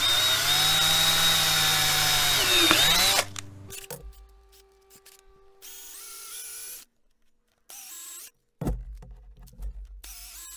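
A power drill bores a pilot hole into flexible aquaponics pipe, then an auger bit widens it, giving a loud sustained whine that cuts off into shorter, intermittent bursts of drilling.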